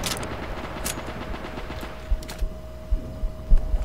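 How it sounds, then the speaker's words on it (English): Gunfire in the video game Frontline: Karelia, low muffled bursts and thumps building in the second half over a steady rumbling background and a constant hum. "I'm just shooting where I think enemies are."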